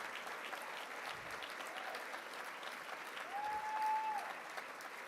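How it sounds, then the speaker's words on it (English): Steady applause from a large crowd fills the room, continuous and even throughout, with a faint whistle-like tone rising briefly near the end. "Big round of applause."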